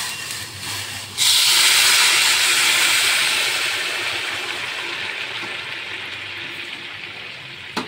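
Hot water poured into pulao cooking on the stove hits the pan with a sudden loud burst of steamy hissing that slowly fades to a softer simmering hiss.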